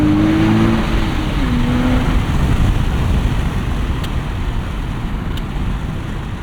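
A 2025 Nissan Z's twin-turbo V6 with a six-speed manual revs under acceleration, heard loud and close from inside the car with steady road and wind noise throughout.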